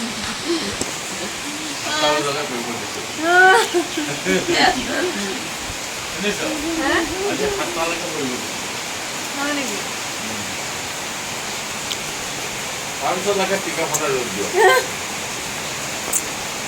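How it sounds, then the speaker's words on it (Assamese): Steady rain falls with a constant soft hiss, while people talk intermittently over it. "এইফালে বৰষুণো পৰি আছে লাগিছে"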